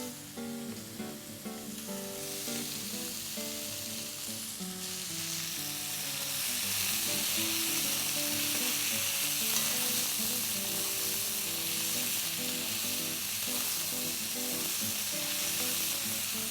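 Green garlic sizzles and fries in a hot pan with salt, a steady crackling hiss that grows louder and denser partway through, heard alone without talk.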